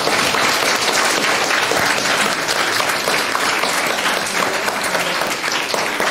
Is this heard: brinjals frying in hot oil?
no